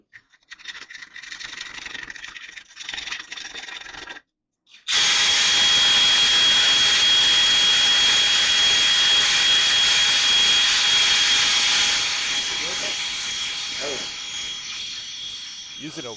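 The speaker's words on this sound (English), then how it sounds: "Using a wire wheel made short work of that gasket" Wire wheel on a power tool scrubbing old gasket material off the rear differential of a 2003 GMC Sierra, a loud sustained whirring grind that starts after a short burst and brief pause, then gradually eases.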